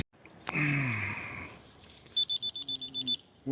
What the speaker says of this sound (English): That beeping noise you heard was Mrs. Data responding to my early morning Garmin text.